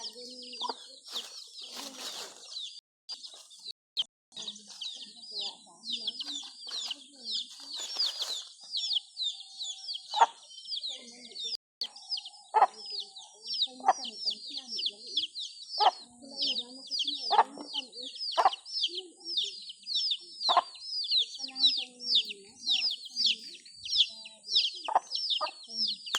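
Chickens cluck and chatter continuously in a yard, a busy rhythmic flock close by with occasional louder calls, while people talk quietly now and then among them.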